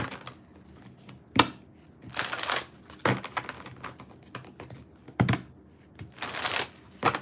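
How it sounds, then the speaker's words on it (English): Tarot cards are shuffled in several rapid riffling bursts with crisp snaps between them, close and fairly loud, with no voices. "I'm going to shuffle cards for Leo"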